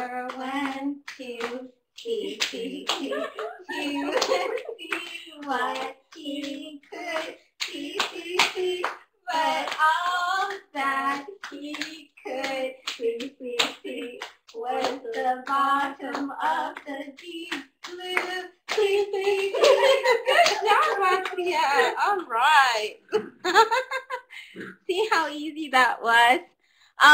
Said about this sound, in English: That's one of the simplest claps that they have.